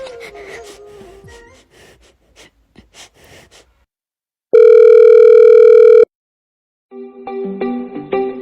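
A telephone ringing tone sounds on an outgoing call: one steady, loud electronic tone lasting about a second and a half, separated by silence from softer breathing and noises before and after it.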